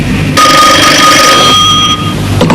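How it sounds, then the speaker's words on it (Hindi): An old telephone set rings with a loud, continuous electronic bell trill for about two seconds, harsh and close, with no talk over it. "ये टेलीफोन की आवाज नहीं लगती है, टल्ली की आवाज है।"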